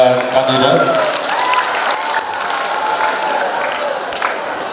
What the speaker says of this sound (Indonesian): Sebelumnya beri tepuk tangan terlebih dahulu untuk 3 kandidat.